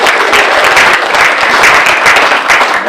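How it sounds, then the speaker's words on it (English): A school board meeting audience applauds newly hired certified teaching staff, a dense, steady wash of many hands clapping for the full stretch with no voices over it. "Now that we've worn you out clapping"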